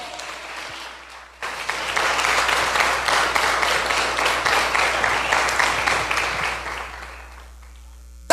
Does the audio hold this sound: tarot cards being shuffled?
no